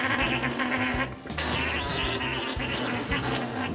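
Alpacas making noise, loud gurgling, warbling calls in overlapping bursts that pulse rhythmically and fill the whole stretch up close.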